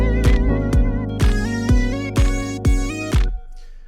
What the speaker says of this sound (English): this is it with the flanger before I turn it down